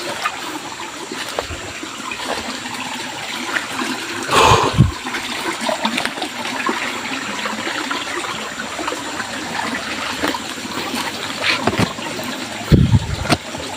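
Water of a creek flows steadily, a continuous close rushing and trickling wash with a few brief louder splashes or thumps.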